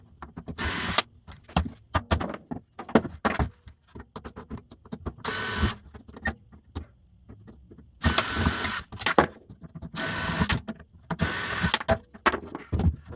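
Drum lug hardware is removed from a plastic-veneered drum shell with a power tool: repeated short mechanical whirring bursts, close and loud, separated by clicks, rattles and pauses of handling.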